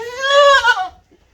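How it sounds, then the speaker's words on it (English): A local goat bleats once, loud and close, a strongly voiced, wavering nasal cry lasting under a second before it cuts off into quiet, with no talk over it. "This is our typical local goat."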